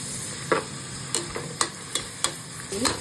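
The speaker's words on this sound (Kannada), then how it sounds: "ನೆಕ್ಸ್ಟ್ ಈರುಳ್ಳಿಯನ್ನು ಹಾಕೊಳ್ಳುವ ಚಂದ ಬ್ರೌನ್ ಕಲರ್ ಬರುವಷ್ಟು ಫ್ರೈ ಮಾಡಿಕೊಳ್ಳಿ" Onions frying with cumin for chicken biryani, a steady low sizzle broken by sharp, evenly spaced spoon scrapes and taps against the pan.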